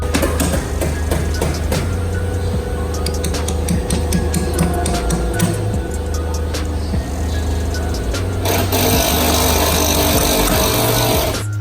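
A power driver repeatedly whirs in short bursts while screws are run into rivet nuts on Jeep MotoBilt rock slider rocker guards, with clicks and tool taps between, close and fairly loud throughout.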